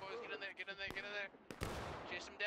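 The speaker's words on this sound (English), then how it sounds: "He's going to shoot them in the back here." Gunfire in the Civil War game War of Rights on the Farmland map, with two sharp broadband shots cracking out amid dense harmonic background sound and a voice talking underneath.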